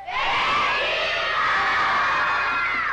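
An audience of children at a televised circus show shouts and cheers together in a loud, continuous wall of excited voices.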